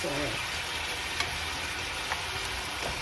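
Steady loud sizzling and crackling of ribs frying in a hot frying pan, continuous and close, with a few faint clinks.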